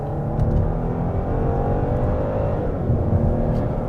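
A 2023 Genesis G90 luxury sedan accelerates hard, its engine and road noise forming a steady, full roar heard from inside the cabin, with no talking over it.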